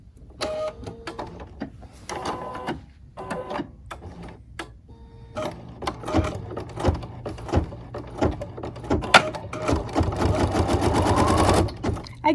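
A sewing machine stitches the last colour of a Swiss-patrol-pattern pin cushion in bursts of rapid needle chatter with short pauses between runs, growing longer and steadier toward the end, close and clear with no talk.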